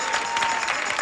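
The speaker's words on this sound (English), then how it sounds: "Why are you applauding like that?" A 1974 game-show studio audience applauds loudly and steadily, a thick continuous wash of clapping with no voices over it.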